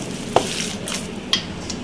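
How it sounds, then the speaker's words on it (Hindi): Hands squish and knead minced meat mixed with spices for chapli kebab, soft wet mashing close up with a couple of sharper clicks, faint and without talk. "अब इन सब चीज़ों को हमें बहुत अच्छी तरह से मिक्स करना है कि सब चीज़ें एक हो जाएं कीमे के साथ"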